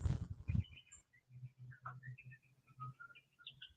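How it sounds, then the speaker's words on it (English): Several birds chirp and whistle in short, scattered calls, fairly faint and outdoors, after a couple of brief thumps at the start. "You guys can hear all the birds outside."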